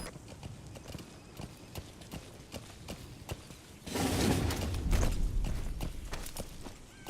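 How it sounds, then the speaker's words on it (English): A horse in Metal Gear Solid V gallops with steady, rhythmic clip-clop hoofbeats. A swell of rushing noise and low rumble rises midway as the pace continues. "Use your horse."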